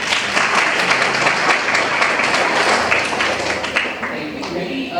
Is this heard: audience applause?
yes